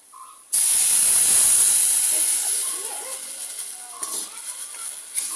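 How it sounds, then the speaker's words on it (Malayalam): Water poured onto roasted chili powder in a hot pan for a tuna curry bursts into a loud, close hiss and sizzle that gradually settles into softer bubbling, broken by a few clinks of a utensil. "മുളക് പൊടിയൊക്കെ നന്നായിട്ട് മൂത്ത് വന്നിട്ടുണ്ടെങ്കിൽ നമുക്ക് വെള്ളം ചേർത്ത് കൊടുക്കാവേ."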